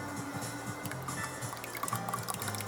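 Liquid pouring steadily out of a container, a continuous gurgling trickle with small splashes, close by and fairly loud.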